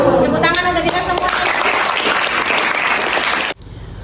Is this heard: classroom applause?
yes